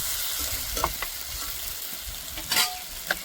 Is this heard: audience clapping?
no